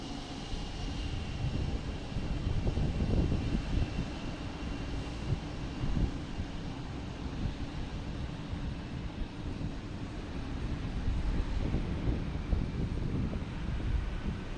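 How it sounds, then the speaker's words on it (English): American Airlines Boeing 737 from Charlotte arriving at Boston Logan, a steady distant jet rumble with some wind buffeting the microphone. "for American Airlines, the 737 coming in from Charlotte"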